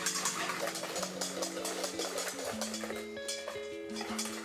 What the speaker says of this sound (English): we're just going to whisk it to stiff peaks